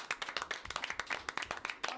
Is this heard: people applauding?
yes